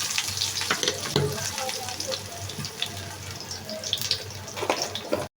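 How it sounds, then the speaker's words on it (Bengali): Chopped onion drops into hot oil in a pan, setting off a loud, dense sizzle and crackle that continues steadily before cutting off abruptly. "তেলটি গরম হয়ে এসেছে, এখন আমি পেঁয়াজ কুচিটা এর মধ্যে দিয়ে দিচ্ছি"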